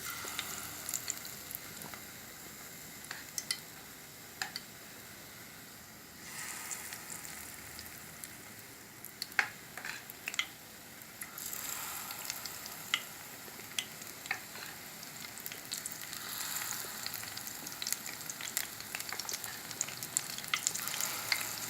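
Besan fritters sizzle and crackle steadily in hot oil, a dense continuous frying hiss with small pops throughout and no talking.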